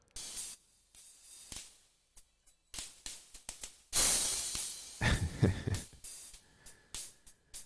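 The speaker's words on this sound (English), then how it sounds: "this is a crazy distortion plugin" Heavily distorted, crunchy drums run through a distortion plugin: a run of sharp, fuzzy hits with saturated hiss, building into a louder, grittier burst midway before more choppy hits.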